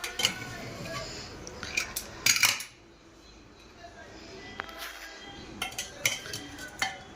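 In a home kitchen, steel cutlery and dishes clink and scrape in scattered bursts as a freshly cooked vegetable sabzi with green coriander is served onto plates, with a brief quiet pause midway.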